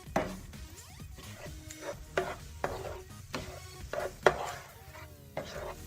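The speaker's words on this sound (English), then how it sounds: "You just keep stirring this around until basically your spinach leaves are going to turn just a little bit mushier" Spinach is stirred in a simmering pan, with repeated close scrapes and knocks of a utensil against the pan over a faint sizzle, arriving in irregular strokes roughly every half second.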